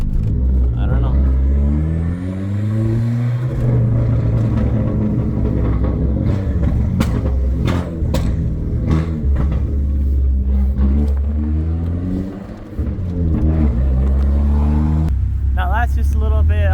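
A car engine revs repeatedly, rising and falling in pitch through several loud bursts, rough and close, with some talk over it.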